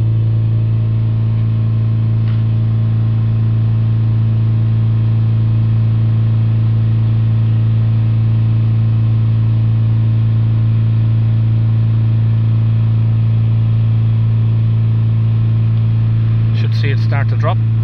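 A diesel car engine held steady at high revs for a regeneration check of its particulate filter, producing a loud, constant drone from close by, with a brief clatter near the end.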